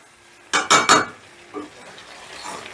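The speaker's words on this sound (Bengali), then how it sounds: "এবারে মটনটাকে ফাইনালি কষবো।" Mutton stir-fried in a pan for a spicy curry, with three loud scraping strokes of a spatula against the metal close up, then a softer clink and quiet sizzling.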